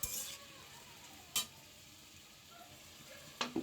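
Potatoes and onions sizzle steadily in a frying pan, with a few sharp clinks of a utensil stirring against the pan.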